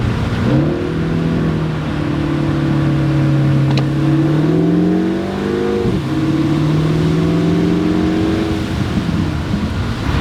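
A Mini Cooper engine burbles and revs, the pitch climbing through two rising pulls separated by a brief dip, loud and close with no talking.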